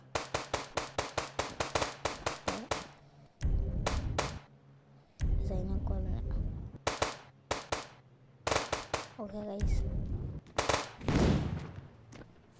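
Rapid bursts of video game gunfire from Indian Bike Driving 3D, loud and close, crackle in quick repeated volleys, then give way to shorter heavy blasts while someone talks briefly.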